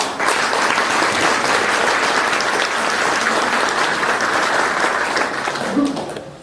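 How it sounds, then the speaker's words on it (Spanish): An audience at a book presentation applauds steadily for several seconds, a dense, even wash of clapping from many hands that fades out near the end. "Le damos un aplauso, por favor."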